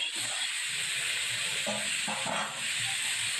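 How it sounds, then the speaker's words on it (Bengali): Spiced fish with new potatoes and cauliflower sautéing in a pan, giving a steady, loud broadband sizzle and hiss throughout, with a few faint clinks of stirring. "ভালো করে কষিয়ে নেব।"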